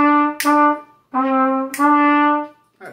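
A trumpet with a slightly sticking middle valve plays four clear sustained notes with short gaps between them, close and loud in a quiet room, followed by a brief breathy sound at the end.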